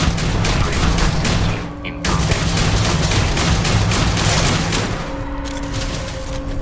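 Sustained gunfire from a fight in the video game Starfield, a dense, continuous stream of shots and booms that stays loud and steady throughout, with a faint tonal hum entering near the end.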